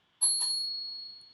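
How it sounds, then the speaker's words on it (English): Bell on a RadRover electric bike struck twice in quick succession, a bright, loud ping that rings on with a long clear decay, heard close. "Moving on to the bell here. This bell is fantastic."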